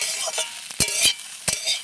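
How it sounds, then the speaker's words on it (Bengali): A spatula scrapes and clatters in a pan a few times over soft sizzling, short quick strokes close by. "ভাজাটা হয়ে গেছে। এতে একটু নেড়ে নিয়ে"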